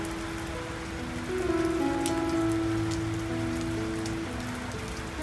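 Steady rain patters densely on water at a moored barge during fish feeding time, a continuous hiss with a faint tonal hum running underneath.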